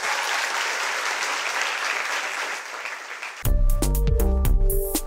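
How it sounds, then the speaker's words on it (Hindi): College students in a classroom applaud loudly, a dense sustained burst of clapping that fills the room, then abruptly cuts to a piano-like musical sting. "सब लोग जोरदार तालियां बजा देंगे"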